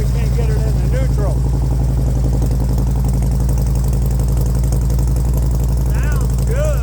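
A Harley-Davidson project motorcycle engine runs at a rough, throbbing idle, loud and close with a steady low pulse, while people speak over it in spots.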